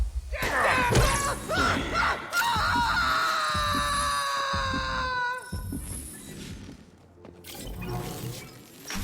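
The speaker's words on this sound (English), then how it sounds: "That was a pretty loud scream." A loud scream rings out in the video game Mass Effect 2, a long wavering cry that slides downward in pitch over several seconds amid crashing game sounds and background music.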